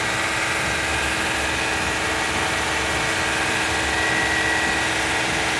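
A 2012 Honda Odyssey 3.5L engine held at raised RPM during alternator testing, producing a steady, loud, unbroken drone and hum throughout with no pauses.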